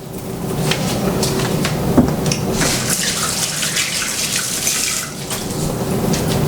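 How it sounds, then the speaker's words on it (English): Water runs loudly and steadily from a kitchen tap into a sink while hands are washed, a full splashing rush heard close by with no voices. "wash my hands"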